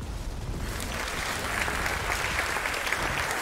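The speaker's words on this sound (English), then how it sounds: "everyone's applauding out of their minds" Crowd applause from the Heroes of the Storm video game, a steady broadband clatter of clapping sustained throughout at an even level, with no speech over it.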